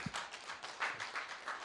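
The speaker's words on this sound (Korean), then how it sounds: "박수 한번 합시다." Brief burst of church congregation applause at a Busan church gathering, a short patter of scattered hand claps from a modest group, fading quickly.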